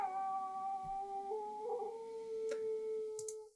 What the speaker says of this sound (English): And she can howl.